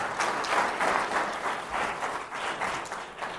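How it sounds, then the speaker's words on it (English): An audience at a talk breaks into sustained applause, a dense wash of many hands clapping that swells and falls slightly in waves, filling the room without any voices. "let's give him a round of applause"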